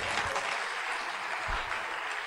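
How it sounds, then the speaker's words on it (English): Steady, dense applause from a church congregation, continuous clapping heard a little distant and moderately loud. "Can you clap for yourself wherever you are?"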